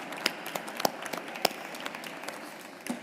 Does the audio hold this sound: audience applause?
yes